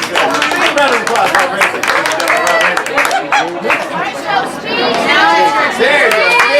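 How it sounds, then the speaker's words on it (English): Applause and cheering at a fraternity retirement party, close and loud, with clapping mixed into lively chatter, laughter and overlapping voices throughout. "Round of applause."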